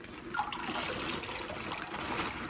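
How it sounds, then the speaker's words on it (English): Milk sloshes and splashes into a crockpot while hot chocolate is being made, a steady close liquid pouring and trickling sound with no talking. "I got milk splashed everywhere"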